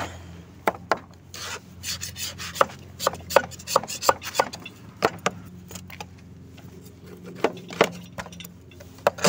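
A knife scrapes and scratches dirt off a CastelGarden XD 150 HD lawn mower during winter cleaning, producing sharp irregular scraping strokes and knocks up close with gritty rubbing in between.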